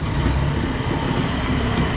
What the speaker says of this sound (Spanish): Ya hoy hay más ruido, hay más gente en la calle, hay más carros